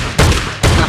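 Gunfire in the mobile battle royale game BGMI: two loud, sharp bursts about half a second apart, each with a dense, crackling decay, close and alone with no talk.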